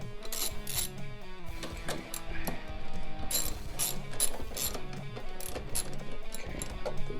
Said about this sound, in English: Now we're going to take our socket. We got a number, we got 10 millimeter. And we're going to pop this off.